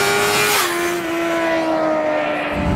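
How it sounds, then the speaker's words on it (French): Car engine on a clutchless upshift with the throttle firmly cut, a steady loud engine tone that drops in pitch as the gear changes, then holds under continuous road and wind noise. "On coupe franchement les gaz et on passe ses rapports."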